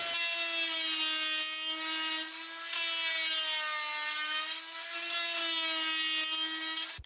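Saw blade working through a wooden octagon table top, a steady sustained grinding whine with a strong droning pitch that wavers slightly, loud and continuous with one brief dip midway.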